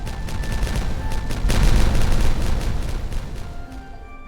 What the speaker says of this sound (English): Sounds like the explosions are happening down here.